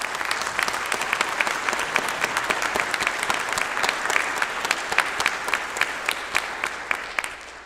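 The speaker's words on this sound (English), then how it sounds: "So if we could applaud the board," An audience applauds the board at a youth orchestra concert, dense sustained clapping from a sizable crowd that thins slightly toward the end, with no talking over it.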